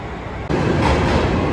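A train pulling through a station in Sapporo, Japan, loud and close. A steady, heavy rumble swells suddenly partway through and then rolls on, with wheel and carriage noise filling the platform.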